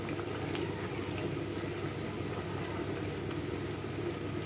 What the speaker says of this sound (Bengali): এটা একটু ফুটতে দেবো, সামান্য একটু জল দিয়েছি, ব্লেন্ডারের জল, ধুয়ে নিয়ে।